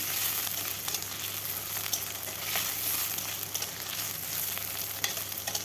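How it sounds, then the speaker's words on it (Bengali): Cut potatoes frying in a pan for a Dhenki shak chorchori, with a steady, close sizzle, occasional stirring scrapes and a low hum underneath, and no voices. "আলুটাও ভালোভাবে ভেজে নিতে হবে। বেশ কিছুক্ষণ সময় ধরে ভাজতে হবে, যতক্ষণ না কালারটা চেঞ্জ হয় আলুর।"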